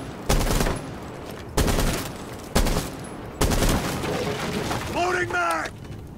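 Gunfire in the Rainbow Six Siege video game comes as four loud bursts of rapid automatic shots, separated by short pauses, with a voice speaking briefly near the end.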